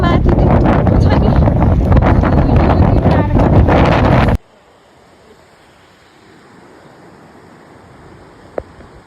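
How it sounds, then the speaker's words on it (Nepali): Strong wind roars at high altitude near Tilicho Lake, Nepal, loud and buffeting against the microphone for about four seconds before cutting to a much quieter, hissing outdoor background. "एकदम हावा चलिरहेको छ बाहिर"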